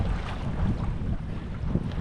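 Strong, brutal wind buffets the microphone on a boat, a loud, steady roar that rumbles low and carries on without a break, mixed with a faint wash of water.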